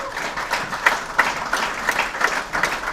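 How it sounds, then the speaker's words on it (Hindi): Enthusiastic audience applause during a seminar session, a dense, fairly loud burst of many hands clapping that swells and pulses steadily without any voices. "जोरदार तालियां दोनों के लिए।"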